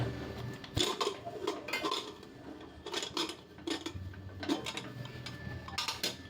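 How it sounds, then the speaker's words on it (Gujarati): Metallic clanks and clicks come in irregular bursts as a pressure cooker lid, with bottle gourd and chickpeas cooked inside, is handled and lifted, with quiet pauses between the knocks. "આ કુકર ખોલું છું"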